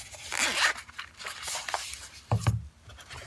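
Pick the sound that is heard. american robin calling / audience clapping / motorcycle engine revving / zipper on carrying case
zipper on carrying case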